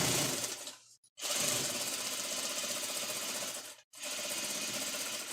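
A Juki sewing machine runs in steady bursts of rapid mechanical stitching, close and fairly loud, stopping briefly twice between runs.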